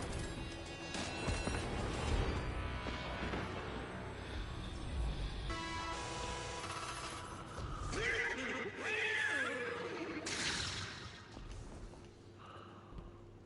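A horse neighs in the Destiny 2 video game, a high whinny standing out amid dense game music and effects, with someone talking over much of it.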